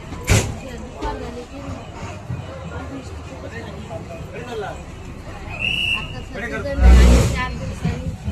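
A Maharashtra state transport ST bus in the Konkan region, engine rumble and road noise around a waiting crowd with babble, rising to a louder passing swell near the end; people talk nearby.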